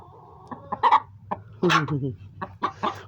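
A hen clucks and squawks agitatedly in short, uneven bursts close by, with a longer drawn-out cackle in the middle.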